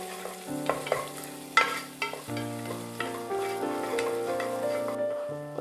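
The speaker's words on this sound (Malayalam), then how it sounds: "അതൊന്ന് സോട്ട് ചെയ്ത് കൊടുക്കുക. അതിൻ്റെ പച്ച ചുവ മാറുന്നത് വരെ നമ്മളൊന്ന് ഇളക്കി കൊടുക്കണം." Crushed garlic and ginger sizzle in hot oil in a pan while a utensil scrapes and stirs through them in uneven strokes. A steady frying hiss sits under soft music.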